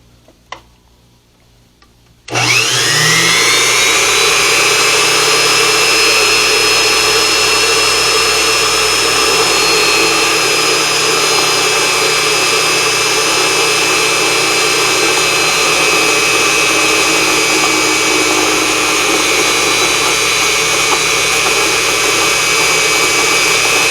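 A Unimat SL1000 lathe cuts a piece of rebar: after a quiet start the machine spins up abruptly into a loud, continuous whine and hum with a faint high ringing tone, steady for the rest of the span.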